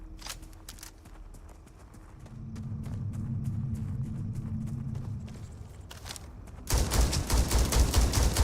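Pistol gunshots in the sci-fi shooter Starfield crack out in a scattered series of sharp bursts over a low background rumble, giving way to a dense, loud wash of noise near the end.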